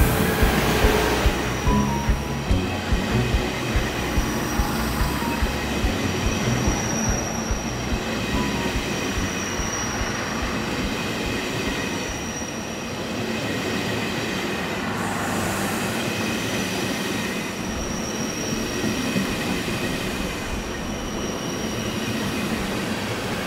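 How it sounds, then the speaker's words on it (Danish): A brand-new České dráhy night train runs from Høje Taastrup toward Dresden, heard from on board as a continuous loud rumble with rhythmic wheel clatter and faint metallic squeals, steady throughout. "Så i stedet tager vi med et helt nyt tog fra det tjekkiske jernbaneselskab České dráhy."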